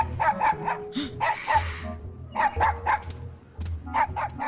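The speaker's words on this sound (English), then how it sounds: "for a moment I thought I heard Toto barking" A small dog barks repeatedly in quick bursts of three or four, fairly close, with brief gaps between the volleys.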